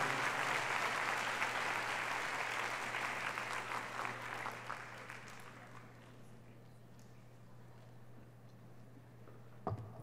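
Applause from an audience at a Yoga Day celebration held at the United Nations, a dense round of clapping that gradually fades away over several seconds, leaving a low steady hum and one sharp knock near the end.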